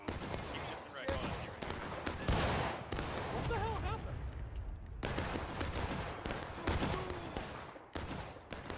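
Steady musket gunfire in War of Rights, many overlapping shots crackling near and far in a continuous battle din beneath player voices.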